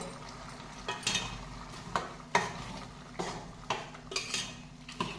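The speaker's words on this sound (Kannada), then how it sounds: "ಫ್ರೈ ಮಾಡ್ಕೊಳ್ತೀನಿ ಇದನ್ನು ನೀಟಾಗಿ" Coriander chicken frying in a pan, with a spoon scraping and stirring in irregular clinks over a steady low sizzle, close by and with no talking.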